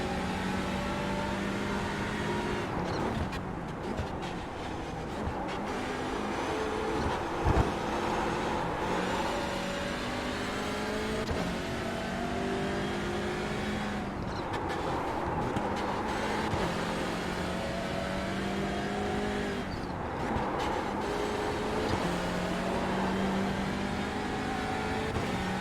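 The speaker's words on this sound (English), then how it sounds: "Couple Porsches that are fairly close to each other, though on different laps." Porsche race cars lap the Nurburgring in an endurance event, engines droning and rising through gears again and again, with shifts and pitch sweeps repeating over a steady roar and no voices.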